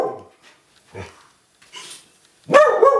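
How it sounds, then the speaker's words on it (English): A pet dog named Ozzy barks a few times in a nearby room, short sharp yips spaced out then a louder burst at the end, heard fairly clearly against quiet. "That's my dog Ozzy barking in the background."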